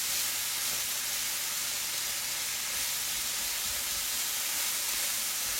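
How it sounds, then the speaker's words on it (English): Meat cooking in a pan for an Italian butternut squash dish gives off a steady, loud sizzling hiss, continuous and even throughout with no distinct pops and no voices. "So we're just cooking our meat a little bit"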